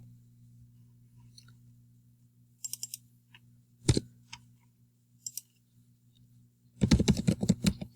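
A computer keyboard in use while entering spreadsheet labels in Excel: scattered single clicks and short taps over a quiet low hum, then a denser, louder flurry of keystrokes near the end, close and without talk.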